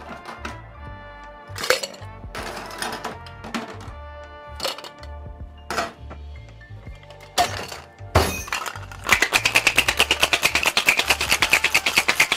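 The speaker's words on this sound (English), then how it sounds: "We're just going to go in with a hard shake." A cocktail shaker packed with ice, gin and fresh raspberries clatters through a hard shake, starting with scattered clinks and knocks and building to a fast, loud, even rattle of ice toward the end.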